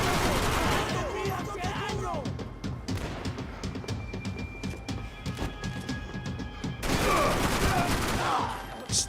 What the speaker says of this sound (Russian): Кто уже стреляет?